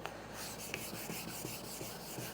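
Repeated rubbing strokes of 600 grit sandpaper across a cloudy, yellowed plastic headlight lens, a steady close scratchy rasp at a quick even rhythm.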